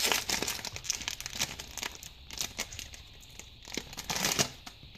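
Mini Dollar Tree trading card packs being torn open and handled make continuous close foil crinkling and crumpling with sharp tearing bursts throughout.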